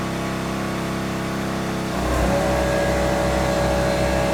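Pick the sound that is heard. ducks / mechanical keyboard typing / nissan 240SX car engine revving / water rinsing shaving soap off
nissan 240SX car engine revving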